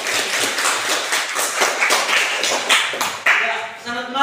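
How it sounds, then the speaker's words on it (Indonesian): Audience applause at a teacher training session, a dense, steady patter of many hands clapping close by for about four seconds, with faint voices mixed in beneath it. "kita beri aplaus"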